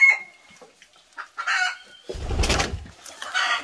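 Farm chickens cluck and squawk close by in short uneven bursts, with one louder, rougher call near the middle that sounds like a crow or squabble.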